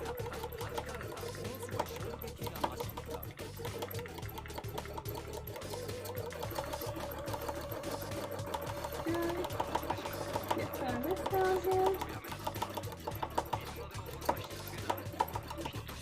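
Sewing machine stitching a full zigzag seam on cosplay fabric, a steady rapid mechanical chatter running throughout at close range, with speech over it.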